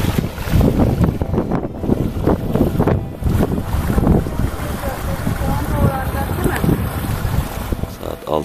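Strong wind buffets the microphone in continuous low roaring gusts at the foot of rocks in the mountains, with voices talking faintly underneath.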